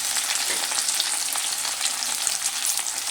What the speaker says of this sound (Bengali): এবার খুব ভালো করে নেড়ে চেড়ে আমড়ার সঙ্গে আমি এটা কষিয়ে নেব